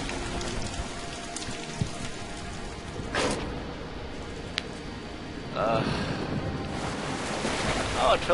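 Water fills up in Darksiders 2, a steady watery wash like surf or rain running throughout, swelling and getting louder near the end, with a few sharp game effects over it.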